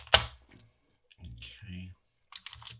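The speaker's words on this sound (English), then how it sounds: "Let's just pop the keycap off and have a look underneath." One sharp, close click as a keycap is popped off an Amiga 500 keyboard during repair, followed by quieter handling sounds and someone speaking.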